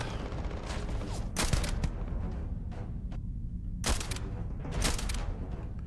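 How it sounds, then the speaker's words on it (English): Rifle fire in the sci-fi video game Starfield: several sharp shots crack out in bursts over a constant low rumble of game ambience, with a few fainter pops between. "Kill enemies with a rifle."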